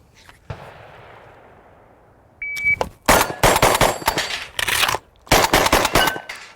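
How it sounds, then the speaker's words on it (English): A shotgun fires at a target, a rack of plates and a stop plate during a speed-reload drill: one early blast with a long decaying echo, metallic reload clatter, then rapid loud shots in quick clusters outdoors. "We're gonna shoot the target on the left, shoot 3 on the rack, do a reload, 3 on the rack, and then 1 stop plate"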